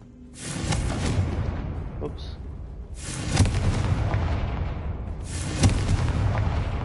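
Confringo blasting spell explosions from Hogwarts Legacy, a loud broadband blast followed by two more booming bursts that decay with crackling rumble, with a brief spoken exclamation between them.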